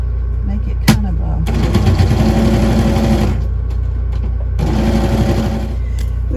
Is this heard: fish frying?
no